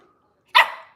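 One sharp dog bark breaks a near silence, close and loud, then fades quickly.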